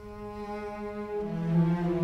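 Solo cello layered with Spitfire and Cinematic Studio string libraries, holding a sustained bowed tone that rises into a brighter, fuller note near the end, soft and smooth with no voices.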